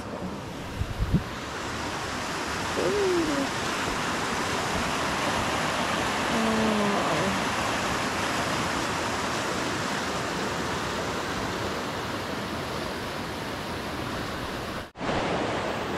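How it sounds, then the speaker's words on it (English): Creek water rushes steadily and fairly loud in Wolf Creek Park, Oregon, a continuous broad hiss with a few faint bird chirps early on and no speech. "So we got a deeper creek on this side and much shallow creek on the other side"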